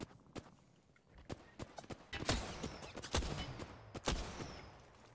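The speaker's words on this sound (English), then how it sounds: "Listen up, I'm getting shot at." Scattered shots fired at the player in a multiplayer shooter crack out irregularly, some sharp and close, others quieter, building into a denser flurry midway.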